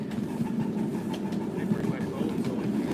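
Riding aboard a White Creek Railroad steam train, with a steady rumbling roll of the cars and faint rhythmic track clatter close by, no distinct whistle or chuff standing out.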